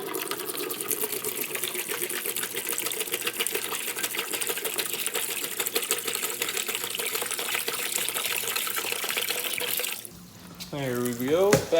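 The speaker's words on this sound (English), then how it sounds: "back under the faucet we go" Steady rushing water pours from a kitchen faucet into a jug for about ten seconds, then cuts off, followed by brief shuffling and a voice.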